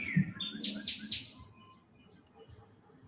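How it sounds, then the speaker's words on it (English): Birds chirping and tweeting outdoors at sunset, a few clear bright calls early on, then fainter song fading into background hum. "there's the birds are singing in my background"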